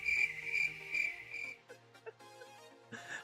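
Crickets chirp in quick bright pulses, a close, steady trill that breaks off midway and gives way to faint scattered clicks and sounds.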